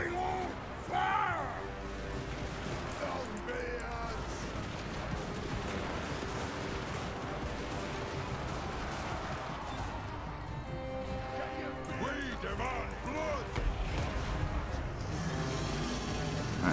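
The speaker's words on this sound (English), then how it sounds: "Alright, bring the catapults over here and we'll see." Catapults fire during a Total War: Warhammer siege against stone walls, with crashes and impacts sounding steadily through a dense, continuous battle din.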